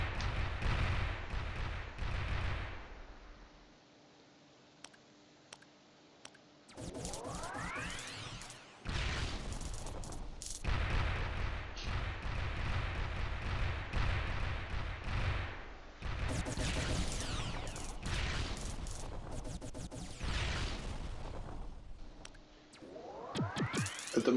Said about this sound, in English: the main gun's just basically cutting stuff up pretty fast. And the laser turrets are going down quickly.